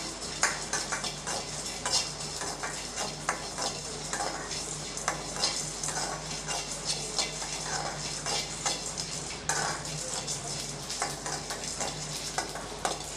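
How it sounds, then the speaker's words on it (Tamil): Whole cardamom pods and cloves dry-roasting in a pan for chicken gravy spice powder, with steady clicking, rattling stirs and light sizzling throughout, close and moderately loud, no talk. "2 ஏலக்காய், 2 கிராம்பு. இதை லேசாக வறுத்து விட்டுக்கலாம்."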